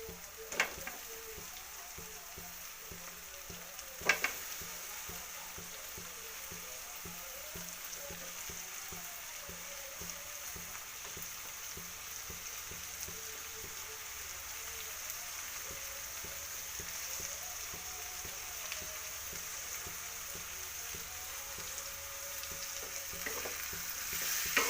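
Tomatoes frying with onions in a pan on the stove, a steady quiet sizzle running evenly throughout with a couple of brief clatters near the start.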